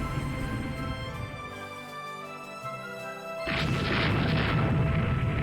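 Torpedo hits exploding in the naval game Rule the Waves 2, a deep booming crash that lands midway and swells into a sustained loud rumble, following a quieter stretch of steady tonal background.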